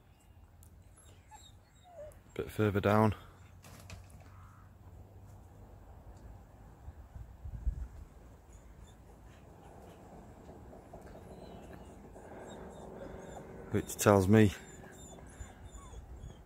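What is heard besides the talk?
dogs whimpering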